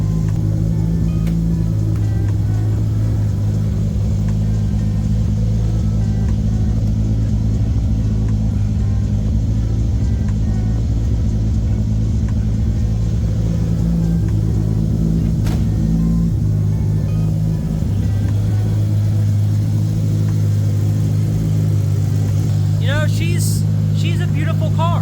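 A heavily turbocharged 2JZ-swapped Nissan 300ZX idles and revs with soft rolling anti-lag, a deep, steady engine rumble that runs throughout under ongoing talk, with a few sharper bursts near the end.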